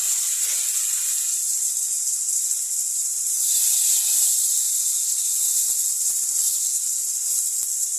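Continuous high sizzling hiss of fish frying on a flat griddle, steady throughout with a few faint crackles and pops toward the end.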